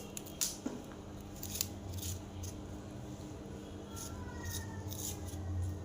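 Tender cucumber is cut into pieces, giving a few short, crisp cutting snips close by over a faint steady background hum, with no talking.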